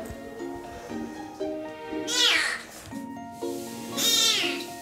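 A talkative kitten meows repeatedly and close by, a series of rising and falling cries with a couple of longer, louder wails, alone without talking.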